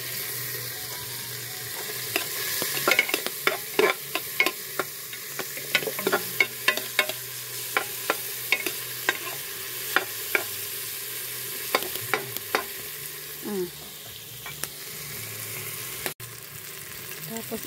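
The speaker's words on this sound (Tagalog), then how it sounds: "Higisa tayo ng bawang, sibuyas, kamatis." Garlic, onion and tomato sauté in a pan outdoors for a pork stew, with a steady sizzle under frequent clicking stirs of a spoon against the pan.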